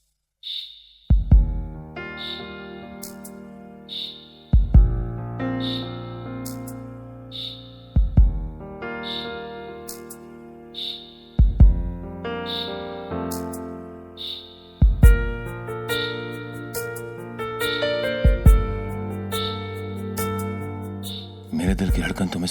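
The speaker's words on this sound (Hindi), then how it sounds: "मेरे दिल की धड़कन तुम्हें सुनाई दी?" Heartbeat sound effect in a Hindi TV drama scene, regular deep thumps about every three to four seconds beneath dramatic tonal music that swells throughout.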